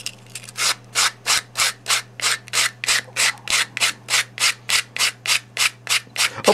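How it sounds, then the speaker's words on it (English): Watercolor paper jewelry pendant edge rubbed against sandpaper at a slight angle, a steady rhythmic series of about twenty short scratchy strokes, close and fairly loud, over a faint low hum. "I sand on a slight angle into the piece, and that gives me a nice clean edge."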